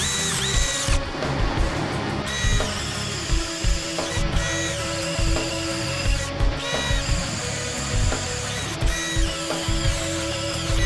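A Milwaukee M12 Fuel cordless drill bores holes, its motor whirring loudly in repeated bursts with short pauses and pitch changes as the bit bites and releases.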